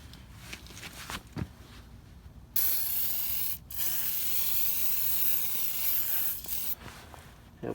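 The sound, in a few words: spraying water on stump grinder wheels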